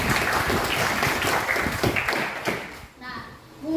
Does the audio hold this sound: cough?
no